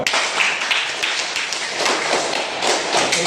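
A class claps together in a loud, steady round of hand clapping, with individual claps audible in a brisk uneven rhythm close by.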